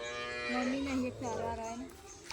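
A cow lets out a long, loud, low moo close by at milking time in a rural cowshed, a single drawn-out call that dips and rises over about two seconds.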